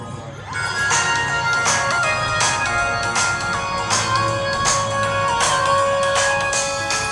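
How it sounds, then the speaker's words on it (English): A phone's built-in stereo speakers play a steady stretch of electronic pop music, continuous and fairly loud with a regular beat and bright synth tones, no voices over it. "One of the positive features of this phone is meant to be the stereo speakers, so I'm going to play as a bit of music."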